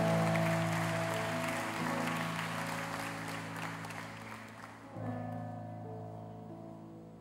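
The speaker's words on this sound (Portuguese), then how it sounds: "Vamos aplaudi-lo por isso?" A church congregation applauding, a dense wash of clapping that slowly fades over several seconds and gives way to quieter room sound.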